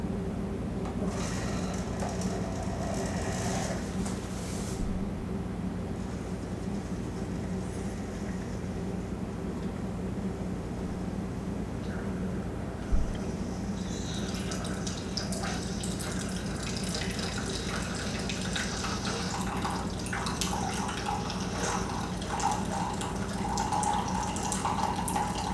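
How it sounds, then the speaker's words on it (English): A Keurig K Express coffee maker brewing a 10-ounce cup gives a steady low hum with water trickling and pouring into a cup. The sound is fairly quiet and continuous, with no talking over it. "I want you to listen and see how loud or not loud you think this Keurig is."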